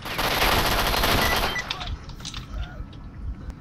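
Automatic rifle fire in the S.T.A.L.K.E.R. Shadow of Chernobyl video game: a loud sustained burst for about a second and a half, then scattered fainter shots and impacts trailing off.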